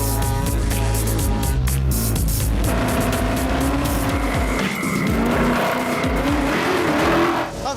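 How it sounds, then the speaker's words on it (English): A car skids and slides on a fine layer of loose stones over volcanic ash: loud, close engine roar with tire squeal and gravel crunch, the revs rising and falling as it slithers around, no talk. "The car is sashaying around, it's like a fine layer of stones on volcanic ash."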